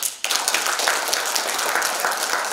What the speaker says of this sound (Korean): 우리 원내대표님께 박수 한번 주십시오